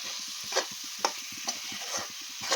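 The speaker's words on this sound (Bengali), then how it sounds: "দেখেছেন এটা খুব ভালো করে নাড়াচাড়া হয়ে গেছে এটা থেকে দেখুন তেলটা ছেড়ে দিয়েছে" Jackfruit kofta mixture stirred as it fries in oil in a Bengali kitchen: a steady sizzle under several spaced scraping strokes of a spoon against the pan, close and fairly loud.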